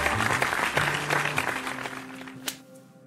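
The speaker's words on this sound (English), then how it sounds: "A round of applause." A room full of students gives a round of applause for a classmate's straight-A report card, a lively burst of clapping that swells and then tapers off, ending with a last sharp clap.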